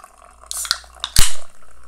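Liquor from a bottle poured into a drink mix, heard as a short splash and gurgle with a couple of sharp glass clinks just before, close and clear in a quiet room.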